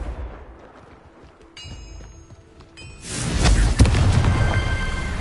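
A Confringo fire spell explodes in Hogwarts Legacy. After quiet ambience with a few faint tones, it hits as a sudden loud whooshing blast with a sharp thud, followed by a sustained crackling roar.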